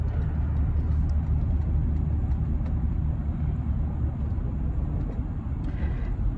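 A Toyota 4Runner with a large-displacement V6 engine cruising on the road, a steady low rumble of engine and road noise from inside the cabin, constant and fairly loud with no talking.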